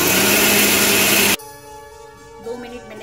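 A mixer grinder grinds a wet spice paste with added water for masala aloo, a loud steady whirring roar that cuts off abruptly after about a second, followed by a person talking.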